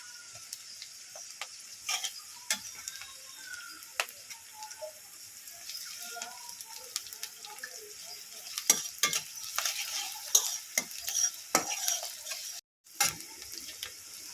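Green chilli and ginger-garlic paste fry and get stirred in a pan, a steady close sizzle with repeated sharp scraping and clinking strokes of the spoon, no voices.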